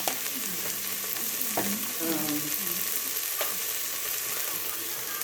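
Vegetables sauté in a pan with a constant, fairly soft sizzling hiss. A few brief clatters and stirring scrapes sound near the start.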